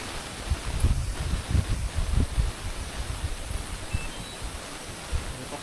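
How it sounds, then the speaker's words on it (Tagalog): Wind gusts outdoors near a large cave in the Philippines, buffeting the microphone in low rumbling bursts over a steady hiss. The gusts are strongest early, then settle into a calmer, continuous rush. "Mahangin na sir."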